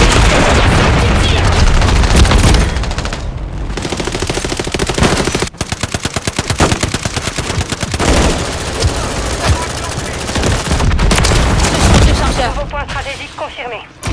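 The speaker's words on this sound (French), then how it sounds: "Missile de croisière allié déployé." Dense automatic gunfire and booming impacts from a cruise missile strike in Call of Duty Modern Warfare 3 on PS5, loud and nearly continuous, with bursts of rapid shots and heavy blasts under occasional in-game radio voice.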